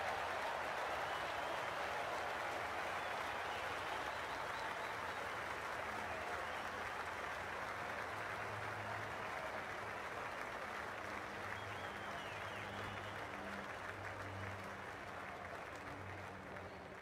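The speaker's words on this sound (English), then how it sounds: "We're about to get underway and already the crowd is up and about." A cricket stadium crowd applauds and cheers continuously before an India vs Pakistan T20 match, a steady wash of clapping and murmur heard at low level.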